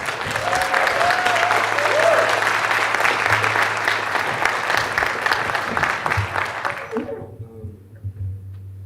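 A room full of people applauding at a juvenile sentencing reform gathering, loud dense clapping that holds for several seconds then thins and fades out, with a voice rising near the end.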